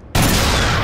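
A single loud gun blast from the first-person shooter game Black, an abrupt, sharp onset followed by a sustained, roaring broadband tail with no voices.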